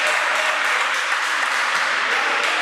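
A basketball crowd at a Winter Cup game applauds steadily, a dense, even wash of clapping that holds at one level from start to finish with no voices standing out.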